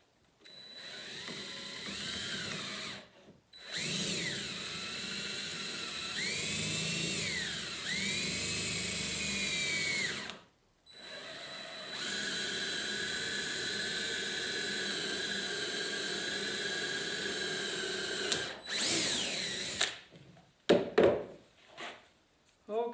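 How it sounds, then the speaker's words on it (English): A hand drill whines in long, loud bursts while building an easel, pitch rising and falling with the load, separated by short pauses and ending with a few knocks. "But if you don't, the hand drill will work fine."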